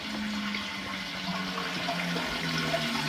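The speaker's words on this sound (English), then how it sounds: "without burning ourselves, we're just going to pour it right over our peppers" Hot seasoned liquid is poured over roasted red peppers in a pan, giving a steady, even rush of splashing liquid for a few seconds with no talk.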